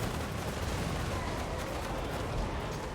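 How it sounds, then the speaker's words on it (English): Grenades explode in Total War: Warhammer II's Mortal Empires campaign as a dense, continuous roar of battle, heavy rumbling blasts and gunfire blended into a loud, steady wall of noise. "And here come the grenades."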